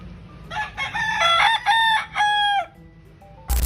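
A gamefowl rooster crows once in a yard, a loud, close, drawn-out call that rises and then trails off, ending in a short thump.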